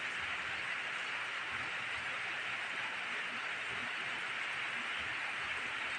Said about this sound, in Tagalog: Kusog man ng ulan.